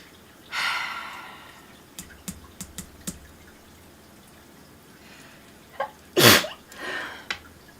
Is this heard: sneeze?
yes